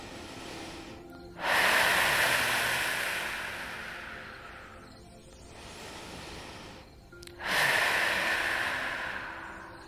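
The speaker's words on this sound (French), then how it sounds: "On va prendre des grandes respirations." Deep breathing during a yoga session: two long, slow, close inhales, each rising sharply and fading gradually, with no talking.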